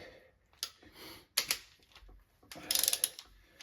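Wrench ratcheting in short clicking bursts while snugging cylinder head bolts on a Small Block Chevy 350, close and fairly quiet with brief pauses between pulls and no talking.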